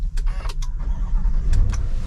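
A 2023 GMC Yukon XL 4WD Denali started by push button: a few short electronic clicks, then a low engine rumble building and settling into idle.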